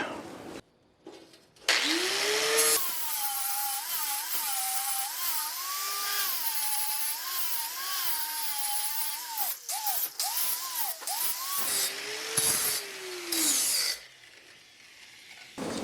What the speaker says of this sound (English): looks like fine tuning it a little bit with the grinder, it looks like.